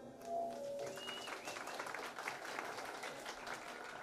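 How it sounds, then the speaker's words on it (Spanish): Applause from the crowd at the back of a baptism celebration, a quick burst of many hands clapping at a distance that fades over a few seconds. "Un fuerte aplauso al fondo, a ver cómo se escucha"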